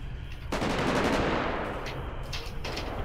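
Gunfire in Grand Theft Auto V during a police roleplay session, a dense burst of rapid shots starting abruptly and continuing loud and steady throughout, like sustained automatic fire.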